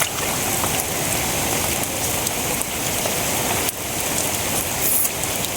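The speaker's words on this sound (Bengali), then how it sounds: "বৃষ্টি কমে গেছে" Heavy monsoon rain pours down in a dense, unbroken roar beside a garden, loud and close, with no voices over it.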